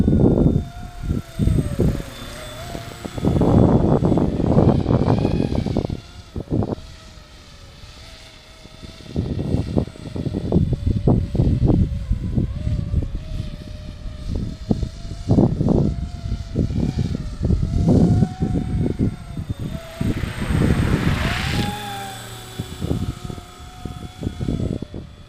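A Flisch 500 class Apache RC helicopter flying nearby, its rotor and motor giving a loud steady drone with a thin high whine that swells and fades as it moves.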